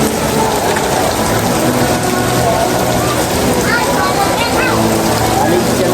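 Steady rain falling outdoors, a dense continuous hiss that holds throughout at close, fairly loud level, with people talking faintly underneath.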